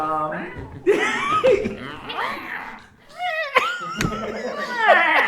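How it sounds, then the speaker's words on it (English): Several cat meows, some drawn out and wailing, mixed with chuckling and human voices nearby. "Cat noises"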